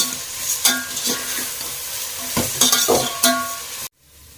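Onions sautéing golden brown in a pan for chicken biryani, a loud sizzle broken by repeated spatula stirring scrapes, cutting off abruptly just before the end.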